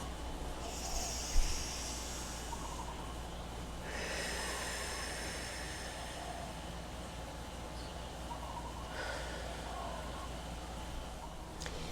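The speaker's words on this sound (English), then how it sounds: "Take a deep breath." Slow, deep breaths during a guided healing meditation, each long airy inhale and exhale rising and fading in a soft rhythm over a steady low background hum.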